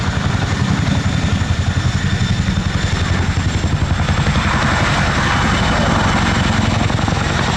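An RAF Chinook twin-rotor helicopter manoeuvres at the Cosford airshow, reversing on two wheels. Its loud, rapid rotor thud beats on steadily and sounds close, with a constant engine roar underneath.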